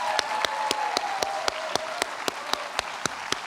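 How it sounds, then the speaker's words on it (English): A church audience applauds at a steady roar with evenly spaced sharp claps poking through, full and close, with no voices over it. "just one more big round of applause of thank you for what they've done"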